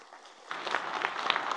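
A church congregation claps to welcome people being introduced, broadband clapping starting after half a second and continuing steadily at moderate level with scattered louder claps.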